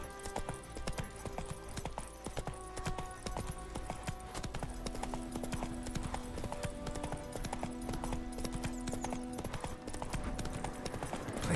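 Horse hooves clip-clop and gallop continuously in The Witcher 3, a rapid rhythmic pounding that carries through the whole stretch over an in-game backdrop.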